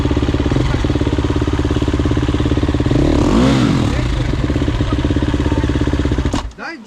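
A motorcycle engine idles and revs in loud, rough pulses that swell near the middle, with voices talking over it before it cuts off abruptly at the end.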